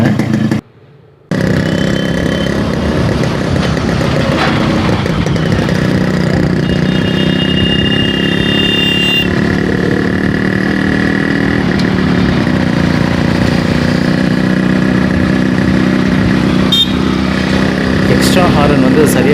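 A restored Yamaha RX100 motorcycle engine runs steadily and loud throughout, cutting out for a moment near the start before carrying on with a continuous two-stroke drone, with people talking over it at times.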